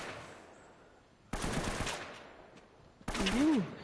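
Gunfire in the video game Uncharted: Drake's Fortune, coming in two abrupt loud bursts of shots with quieter game ambience between them.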